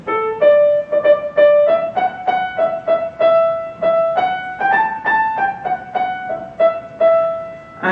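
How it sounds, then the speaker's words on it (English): Solo piano plays the Grandfather's Dance theme, an old German folk tune, from Schumann's Carnaval: a steady sequence of clear, evenly spaced notes and chords in a moderate dance rhythm, heard alone and close. "the theme that comes in is an old folk song, a German folk song that everybody hearing it would have recognized, called the Großvater's Dance"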